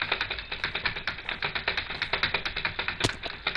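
Rapid, steady computer keyboard typing during a Minecraft game session, a dense run of close, crisp key clicks with one sharper tap near the end, with no talking.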